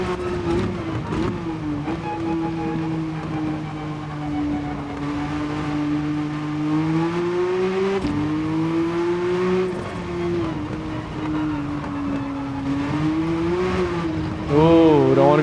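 Race car engine in Gran Turismo 7 on a wet Spa track, a steady droning whine that rises and falls with the throttle over about fifteen seconds, with a commentator talking over it.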